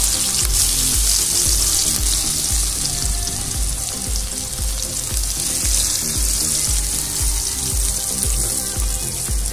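Onions fry in hot oil with a loud, dense, steady sizzle and hiss close up, mixed with a rough, running-water-like wash throughout.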